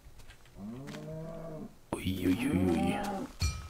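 Cows mooing in the video game Minecraft, two drawn-out low moos in succession, the second louder and rougher, with a voice briefly exclaiming alongside.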